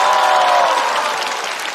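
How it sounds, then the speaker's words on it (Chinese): A studio audience at a stand-up comedy competition show applauds a comedian, with loud, dense clapping and a little crowd noise that eases slightly over two seconds. "请锁票，掌声再次送给秋瑞"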